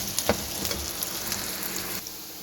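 Onions fry with spices in a hot pan for baingan bharta, giving a steady, close crackling sizzle with a few light stirring clicks.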